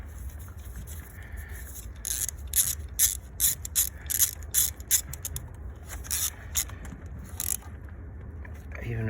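A ratchet wrench tightening fasteners during a full service on a Vauxhall Astra 1.4 turbo, with loud clicking bursts in quick strokes over several seconds.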